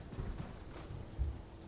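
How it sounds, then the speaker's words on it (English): Spectral steed Torrent's hooves in Elden Ring, a quick run of low, soft clip-clop beats in steady gallop rhythm, fairly quiet and close, with no talk over them. "I summon my spectral steed, Torrent."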